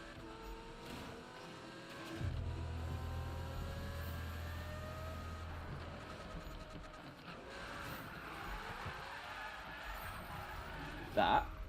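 A car engine drones and shifts pitch through a drift in Need for Speed 2015, steady revving tones rising and falling with tire noise, ending in a brief sharp burst.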